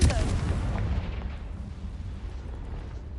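A Confringo fire spell in Hogwarts Legacy bursts with a loud, close boom that rumbles away into a fading low roar over a few seconds.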